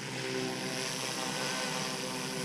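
Blade InFusion 180 RC helicopter flying with its brushless tail, giving a steady, continuous rotor and motor whine with high-pitched buzzing tones that hold at an even level throughout, at moderate distance.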